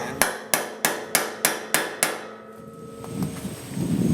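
A hammer striking the fuel pump retaining ring on a Ford F-150 seven times in an even rhythm, close and ringing, each metallic blow decaying before the next, then a quieter rustle of handling.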